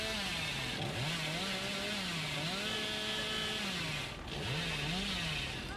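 In the horror game Dead by Daylight, a killer's chainsaw drones loudly and continuously, its engine pitch sagging and climbing in waves, with two brief dips in the roar and no talking.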